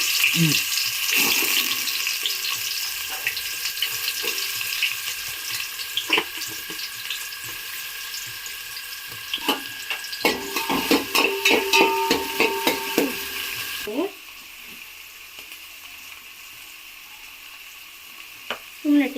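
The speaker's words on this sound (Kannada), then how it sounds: "ಈಗ ಈರುಳ್ಳಿ ಹಾಕೊತ ಇದ್ದೀನಿ" Onions frying in hot oil as a tempering for a Sunday fish curry, a constant crackling sizzle broken by clinks and scrapes of stirring, and close up, which then fades to a quieter simmer partway through.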